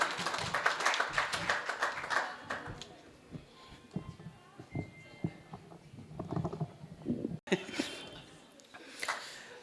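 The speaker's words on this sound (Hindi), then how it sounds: "भाई रोशु रोशन को आप सब सुने जोरदार तालियों से" Applause from a Hindi poetry gathering audience in Delhi breaks out and fades, a scatter of claps and patter mixed with crowd noise and brief voices.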